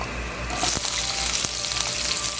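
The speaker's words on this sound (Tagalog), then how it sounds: "hanggang sa mag-golden brown yung garlic and lumambot yung onion" Garlic and onion sauté in hot cooking oil, a loud, close sizzle that swells as the pan heats, with a few sharp stirring clicks and no speech.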